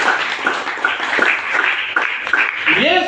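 A church congregation claps for Jesus in loud, irregular bursts of applause, with voices mixed in and a rising vocal sound near the end.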